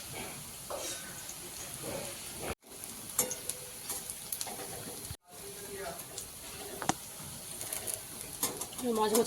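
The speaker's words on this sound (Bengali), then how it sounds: "পেঁয়াজিগুলো ভাজা হয়ে গেছে" Onion fritters (peyaji) frying in hot oil, a continuous crackling sizzle with scattered pops and stirring scrapes, close and fairly quiet, broken by two brief dropouts.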